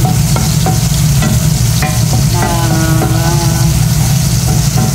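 Garlic frying in butter in a pan for shrimp curry, a steady close sizzle with occasional utensil clicks and scrapes throughout, no talking.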